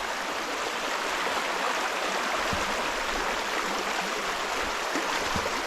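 Creek water rushing steadily past Hazel Creek Campground in Mark Twain National Forest in winter, a constant close hiss of flowing water with no pauses and no voices.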